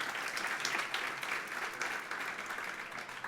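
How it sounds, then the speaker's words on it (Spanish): An audience at an education technology congress workshop applauds, a steady, fairly faint wash of clapping that lasts throughout with no talk. "Un altre aplaudiment per ella, sisplau."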